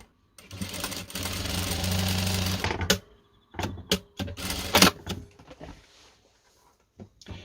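A sewing machine runs steadily for about three seconds, stitching a dividing seam down the middle of a fabric pocket on a small handmade case, then stops, followed by scattered clicks and handling noises.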